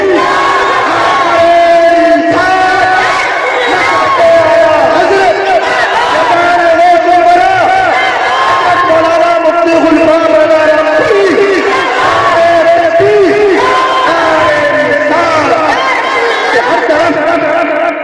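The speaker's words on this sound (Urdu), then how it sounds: "بلند آواز سے نعرے کا جواب دے، نعرے تکبیر" A large crowd at a religious gathering shouts back in unison in response to the Nara-e-Takbeer slogan, a loud, sustained roar of massed voices with rising and falling chanted waves lasting throughout.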